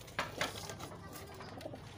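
Pigeons in a backyard loft give soft, low cooing calls in two quick pulses, close by, followed by a steady murmur of cooing and faint ambient noise.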